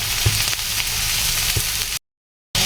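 Garlic, onion, tomato and squash sautéing in a pan, a steady dense sizzle with a few soft knocks of stirring, then a brief cut to silence before the frying resumes.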